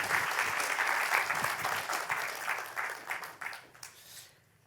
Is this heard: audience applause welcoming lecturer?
yes